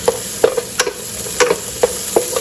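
Onions caramelizing in a pan while being stirred, a soft steady sizzle broken by several sharp scrapes and taps of the utensil at irregular intervals.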